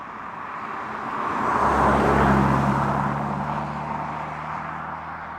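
A Jaguar F-Type P300 with the four-cylinder turbo Ingenium engine drives at normal pace in normal mode, a steady hum and road roar that swells and then fades, heard alone.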